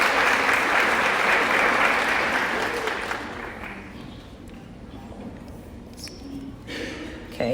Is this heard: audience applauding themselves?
yes